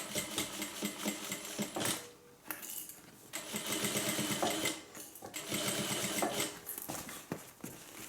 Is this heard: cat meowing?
no